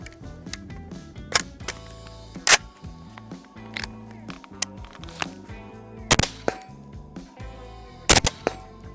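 Suppressed gunshots from an FN SCAR-L rifle fired without adjusting the gas block: several sharp, loud cracks spaced a second or two apart, with clicking mechanical handling noise between them.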